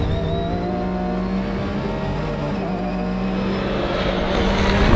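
Race car at full power on a track at Le Mans, a loud, steady engine roar held near throughout and rising slightly toward the end, with no talk.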